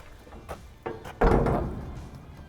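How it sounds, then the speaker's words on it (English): A stiff steel shipping container door is forced open, giving a couple of dull knocks and then a heavy metallic thud with a rumbling, grinding drag that fades over about a second. "here's a good example of a door that's just too stiff."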